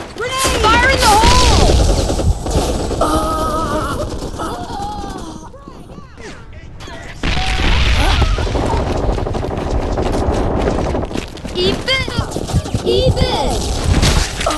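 Gunfire and grenade explosions in a video game, Hazard Ops PvP, with dense rattling bursts and heavy booms nearly throughout, a brief lull in the middle, and game voices calling out over the fighting.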